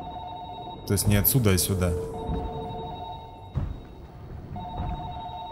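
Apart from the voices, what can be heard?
telephone ringing in the video game Narcosis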